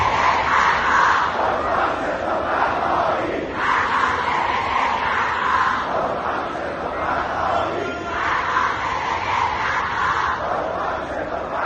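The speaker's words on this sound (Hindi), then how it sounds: "अब देखिए यहाँ पर ईरान में अचानक से भीड़ क्यों उमड़ी है" Crowd in the streets of Iran chanting slogans, a dense, loud, continuous roar of many voices with rhythmic surges of shouting, heard from within the mass of people.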